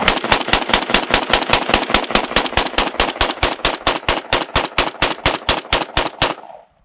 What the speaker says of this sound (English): So the safety goes down, and let's see how we can shoot.